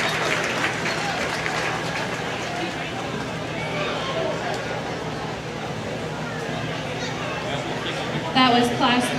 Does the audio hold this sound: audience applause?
yes